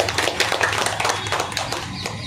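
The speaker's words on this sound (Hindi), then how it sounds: "इसके लिए बहुत जोरदार तालियां होनी चाहिए" Dense, steady applause fills the space for the Rashtriya Rajbhar Seva Sangh, a large Maharashtra community organisation, at a gathering. Many hands clap at close range with no pause.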